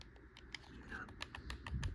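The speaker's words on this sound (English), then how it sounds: "These are super clicky, so hopefully they sound good." Clicky buttons on a game controller pressed in a quick irregular series of sharp, close clicks over a low background hum.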